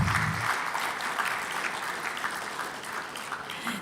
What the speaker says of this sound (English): Another big round of applause for Mr. Manuel Moses.